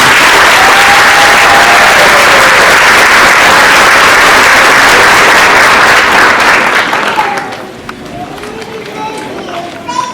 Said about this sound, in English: give her one more round of applause for that